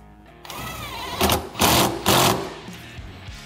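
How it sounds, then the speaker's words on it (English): A clamp is cranked tight on a snorkel kit being installed on a Polaris Ranger, with a few close, loud rasping bursts of a power tool in quick succession. "we'll go ahead and we'll tighten this clamp down."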